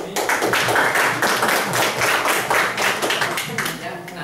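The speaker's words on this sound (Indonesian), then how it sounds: "Tepuk tangan dari sini." Crowd applause at a spoken gathering: dense, continuous clapping from many hands, loud and close, running the whole stretch with voices murmuring underneath.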